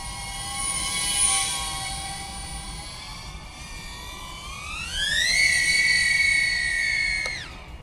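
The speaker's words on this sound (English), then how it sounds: "The noise that the Bee25 puts out is, in my opinion, far greater than the noise that the Huma puts out." A SpeedyBee Bee25 mini quad drone flies with a loud, steady multi-tone whine that climbs in pitch partway through as the motors spool up, then cuts off sharply near the end.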